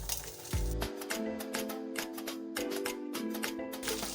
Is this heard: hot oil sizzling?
yes